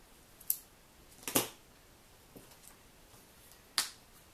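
Scissors cutting paper for punch art strawberries, a few quiet crisp snips spaced apart against near silence.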